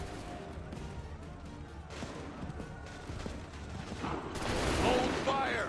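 Musket volley fire in Assassin's Creed 3: a rolling fusillade of gunshots amid battlefield noise, building into a louder, denser burst of firing toward the end, with shouted voices mixed in.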